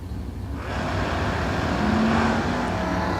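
A Pontiac T1000 drag race car and another car roll down the racetrack at the Six Shooter Showdown. A low engine drone swells into a steady, loud roar after the first half second and holds there, with no voices.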